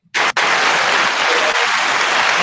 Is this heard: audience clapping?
yes